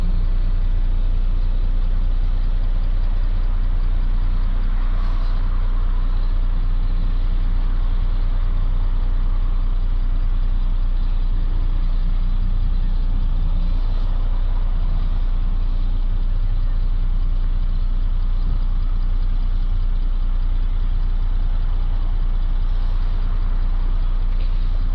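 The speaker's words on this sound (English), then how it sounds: "We need to do it with the engine running this time." A Mercedes E350 3.0 V6 CDI diesel engine with a blocked DPF idles steadily, a continuous low drone that runs unbroken for the whole stretch with no speech over it.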